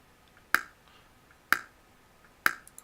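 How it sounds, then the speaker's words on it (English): A bare-bones click track for guitar recording plays three sharp, isolated clicks about a second apart, each short and crisp against near silence. "I was playing to just a bare bones click track that sounds like this."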